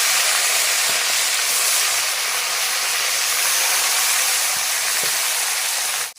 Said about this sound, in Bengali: এদিকে আমাদের তেল গরম হয়ে গেছে, তেলের মধ্যে একে একে মাছগুলো ছেড়ে দিচ্ছি। আগে মাথাগুলো ভেজে।